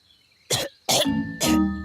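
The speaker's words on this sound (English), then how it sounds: "Gaston's coughing." Three sharp, close cartoon coughs, each a short harsh burst, with brief pauses between them and no talking.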